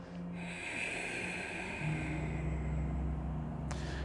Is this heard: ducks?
no